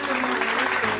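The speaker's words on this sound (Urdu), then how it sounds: "تالیوں سے گونج اٹھی۔" Brief burst of a school class clapping, a dense steady patter used as a sound effect in a narrated story, with a voice talking over it.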